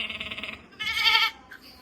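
A goat gives two close bleats, a short wavering call followed by a louder, longer one, with a faint trailing sound and no talking over it.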